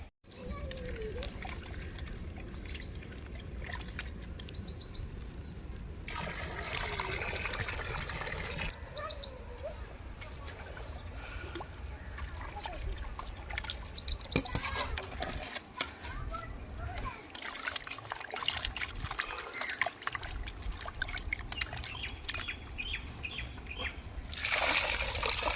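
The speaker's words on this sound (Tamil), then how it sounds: "சிக்கன் அப்புறம் நல்லா வாஷ் பண்ணிக்கிடுவோம்." Raw chicken, about a kilo for a Hyderabad-style chicken gravy, being washed in water: intermittent bursts of splashing and sloshing, loud and close, separated by quieter gaps.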